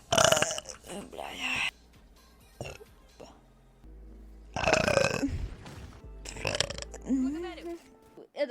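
A young woman lets out a string of loud, drawn-out burps, several bursts with a few quieter gaps and brief voices in between, recorded close up.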